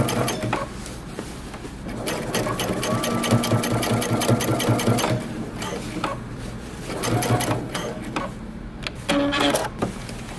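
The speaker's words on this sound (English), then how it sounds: "now I'm gonna continue my top stitching where we had stopped close to the edge through the crotch" Sewing machine top stitching denim jeans through the crotch seam near the edge, a steady fast mechanical whir of needle strokes in bursts with brief pauses, loud and close, no talk.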